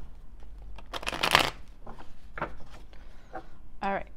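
Tarot cards are shuffled up close, with a few quick riffling bursts and soft slaps between short pauses, and a quiet voice faintly present underneath.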